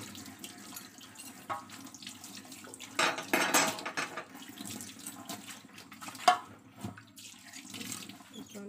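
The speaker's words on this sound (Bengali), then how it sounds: "বাসন আছে, বাসন ধোবো।" Dishes being washed at a home sink under a running tap, with water splashing in bursts and the clatter of pots and cutlery, fairly close and with no talking.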